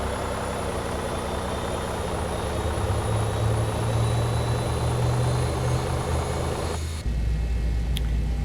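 A Boeing 737-800 jet engine spooling up during start in the X-Plane 11 simulator, a steady loud turbine whine and rumble that holds for seven seconds, then drops to a quieter low hum.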